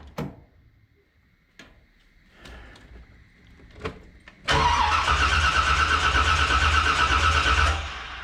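A 1981 Corvette, just fitted with new intake manifold gaskets, gets a start attempt: a few scattered clicks, then about three seconds of loud, close engine cranking that abruptly stops.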